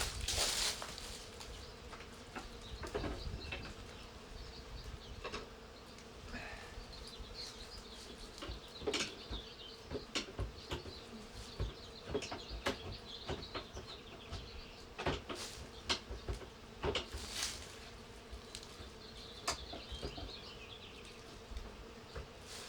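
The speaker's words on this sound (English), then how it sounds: "You can continue to see the confused bees for just a moment while I pull out this bottom." Confused honey bees buzz around a hive being moved, a close, continuous insect hum with many sharp knocks and clicks of hive parts being handled, no voices.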